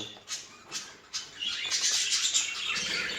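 Birds in a breeding aviary with chicks and eggs chirp and tweet close by, starting as a few short calls and building into continuous busy twittering with some wing flutter, and no talk.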